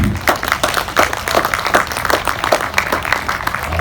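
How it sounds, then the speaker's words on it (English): Audience applause at an agricultural sheep show in Dumfries, a steady wash of clapping from a crowd that continues throughout without a break. "So I think another little clap for my 9 woolly friends there."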